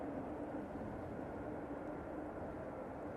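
Steady broadband roar of an aircraft at Manchester Airport, an airliner in old livery, a continuous dense rumble with no clear rise or fall, moderately loud, with no talk over it.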